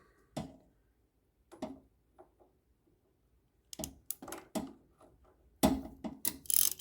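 A socket tool loosens the oil filter on a Fiat 500 Abarth, producing separate clicks and clunks that cluster into quicker ratcheting bursts toward the end.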